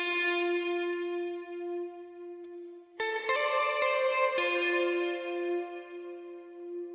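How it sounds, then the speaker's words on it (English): Sustained synth chord in Ableton Live with delay and reverb added, a few plucked stab notes entering midway and echoing, ringing out smoothly and spacious at moderate level. "by giving it a bit of delay and a little bit of reverb, it turns into this."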